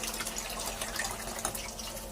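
Water running from a coin-operated water vending machine, a steady close splashing stream under a faint electrical hum, lasting about two seconds.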